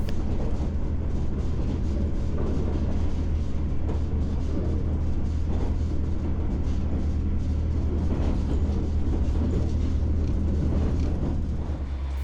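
The Berumonta scenic train in Toyama Prefecture pulls into its final station, a steady low rumble of wheels and carriages that holds evenly throughout, with no voices.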